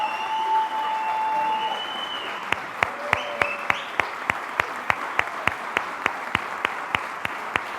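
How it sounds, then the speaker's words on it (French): Audience at a graduation ceremony applauds in a continuous crowd roar, then the clapping settles into a steady rhythmic beat of loud, evenly spaced claps carrying on over the noise. "Je pense qu'on peut se lever pour leur donner toute une main d'applaudissement."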